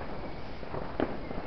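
Fireworks going off outdoors at night, heard at a distance as muffled pops and crackles with one louder burst over a steady background rumble.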